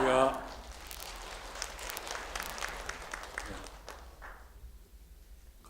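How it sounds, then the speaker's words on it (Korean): A church congregation applauds a pastor arriving at the pulpit during a Sunday afternoon praise service. The clapping is steady and spread out, with some voices, and fades over about four seconds. "강단에서 박수 받으니까 기분이 이상합니다."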